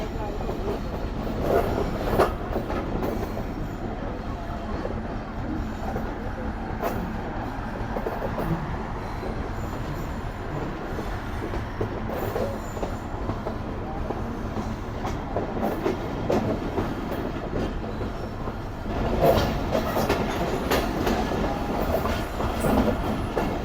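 A train running on the Larkana to Kotri railway line in Pakistan, heard as a steady, loud rumble of wheels on track with rhythmic clatter and occasional squeal throughout.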